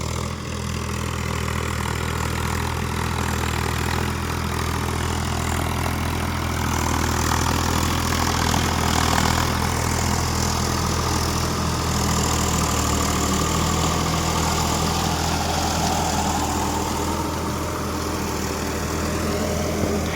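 A Swaraj 744 XT 4WD tractor engine runs steadily and loudly for the whole stretch, a continuous low throbbing drone with a gritty mid-range roar and no voices over it.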